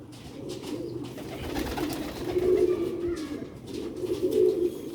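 Pigeons cooing at a loft where the birds are kept for sale, a steady run of low, throaty coos swelling and fading over several seconds at moderate loudness.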